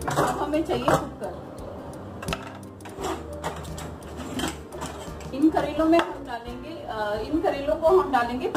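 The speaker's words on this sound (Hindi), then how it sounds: "अब हमें चाहिए कुकर।" Pots and a pressure cooker clatter and clink as they are moved about in a home kitchen while stuffed bitter gourd is prepared, with a person talking over the metallic knocks.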